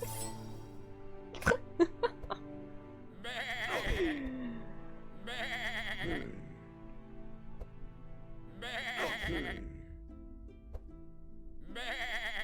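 Sheep bleat in the video game Across the Obelisk, four or five wavering calls spaced a couple of seconds apart over soft background music, with some brief clicks early on.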